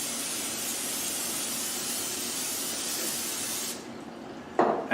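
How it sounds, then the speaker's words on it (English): Steady hissing of non-stick cooking spray coated into a casserole dish, a continuous close aerosol spray lasting several seconds before stopping, followed by a brief clink. "I'm going to take a casserole, and I'm going to spray it with some non-stick spray."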